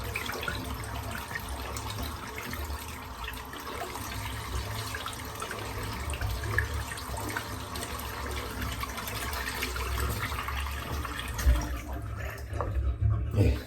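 Water runs from a tap to warm a limited-edition raspberry beer shaving soap, a steady close splashing and trickling that continues throughout at moderate level, with a few louder knocks near the end.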